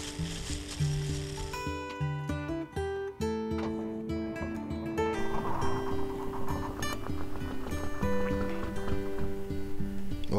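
An old Detroit diesel engine, sitting unused for years, cranks with a rapid mechanical clatter and catches on starting fluid, running roughly and loudly up close with no talk.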